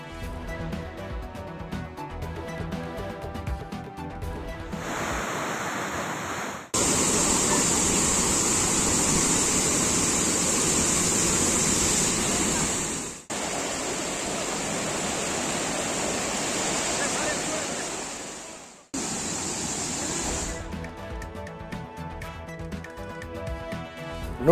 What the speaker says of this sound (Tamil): கர்நாடகாவில் உள்ள சுற்றுலா பயணிகளை கவர்ந்தெழுக்கும் நிப்னி நீர்வீழ்ச்சி.